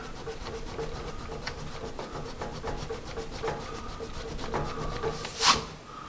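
A Magic Rub vinyl eraser rubbing over HB pencil marks on paper, a steady close scrubbing rasp with repeated short strokes and a sharper brush-off near the end, no talking.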